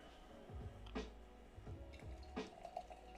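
A drink is poured into a fresh glass, with soft splashes and drips in a few irregular bursts, close but quiet, over faint room noise.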